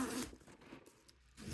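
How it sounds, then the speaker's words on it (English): Zipper on a Lululemon bag pulled in a quick, quiet rasp, one short closely recorded stroke followed by a softer trailing slide. "And then the zipper, look at this, super nice."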